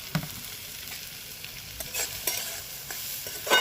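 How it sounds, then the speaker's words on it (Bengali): Small cauliflower florets fry in hot oil with a soft, steady sizzle, while gentle stirring adds light scrapes and taps close up; no one speaks. "এবার হালকা হাতে এটা নাড়াচাড়া করে নেব"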